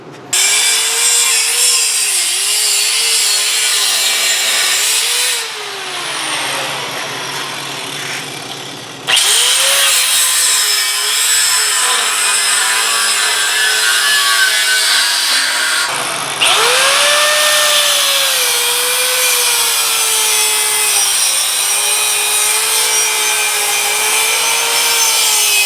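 A power tool cuts through a metal plate on a welding cart, loud and continuous with a shrill whining pitch that dips under load, stops twice briefly and then resumes.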